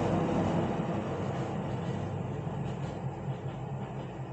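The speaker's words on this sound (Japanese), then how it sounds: "ちょっと待ってください、電車通ってうるさいでしょ。" A passing train makes a loud, steady rumble and roar close by, filling the whole stretch with a broad continuous wash of noise and no voices.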